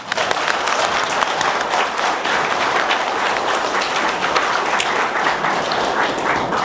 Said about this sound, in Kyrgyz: Биригүүнү колдосоңор кол чаап койгула.